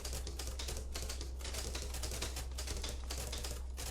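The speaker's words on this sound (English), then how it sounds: "I don't want to type on the typewriter." A typewriter in a video game demo types on its own, a rapid, uneven stream of mechanical key clacks running without pause over a low background hum.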